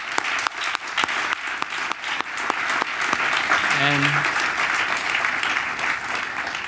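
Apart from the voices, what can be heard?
audience round of applause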